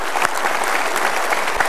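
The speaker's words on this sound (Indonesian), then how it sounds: "Kita berikan tepuk tangan untuk Bapak-Bapak TNI luar biasa." Audience applause for soldiers of the Indonesian armed forces at an evening motivational event, a dense steady clapping crowd filling the whole stretch at full level with no break.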